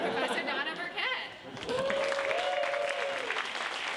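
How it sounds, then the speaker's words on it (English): A crowd at a campus stage show applauds, the clapping mixed with cheering, a rising whoop and scattered chatter, briefly dipping before swelling again and holding steady. "Let's give a round of applause for Professor Donna Burkett."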